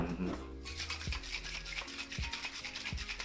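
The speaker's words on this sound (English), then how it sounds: "We're gonna dry shake this first." Dry shaking an egg white cocktail in a shaker produces rapid, rhythmic rattling and rubbing strokes close up, repeated steadily for a few seconds.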